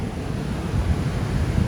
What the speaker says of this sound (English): Waves are still almost coming right up to the grass.